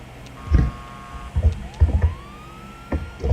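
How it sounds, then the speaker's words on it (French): Police siren in the video game GTA 5, on a park ranger patrol: a faint rising wail tone runs under several loud low thumps and engine bursts, with a steady siren line partly masked by the game noise. "Et puis les sirènes que quand on en a besoin."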